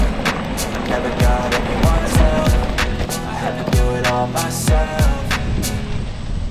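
A Ninebot MAX G2 electric scooter rolls along with repeated sharp rattling knocks from its rear shock absorbers over bumps, set against steady road rumble and faint background music.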